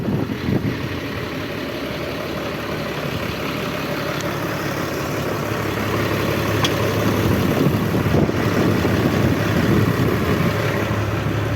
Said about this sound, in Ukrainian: Моторчик шепче гарно.